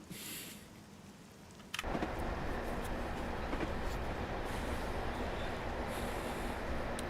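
Train on the North Wales coast line rumbling past, starting with a sudden loud onset after a quieter moment and continuing as a steady, close, broadband roar with no voices.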